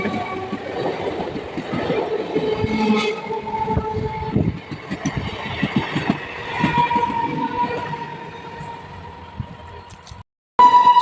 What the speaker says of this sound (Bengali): চার নম্বর লাইন দিয়ে বেরিয়ে যাচ্ছে এক্সপ্রেস ট্রেন আর দু নম্বর লাইন দিয়ে বেরিয়ে যাচ্ছে লোকাল ট্রেন